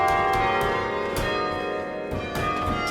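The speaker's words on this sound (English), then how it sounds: "we had this simultaneous recording, of like the chimes from 12 different locations on campus" Campus bell chimes ring out, several struck tones overlapping from different points on a university grounds, loud and sustained with a new strike roughly every second and no voices.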